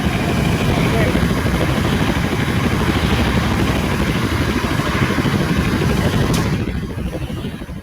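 Helicopter in a zombie battle video game on an aircraft carrier, a steady loud rotor roar filling the whole clip before easing off near the end, with players talking over it.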